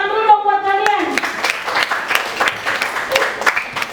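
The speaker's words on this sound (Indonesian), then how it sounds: "Tepuk tangan dulu dong buat kalian." Children in a classroom break into a burst of clapping after a teacher speaks, the applause close and steady for a few seconds.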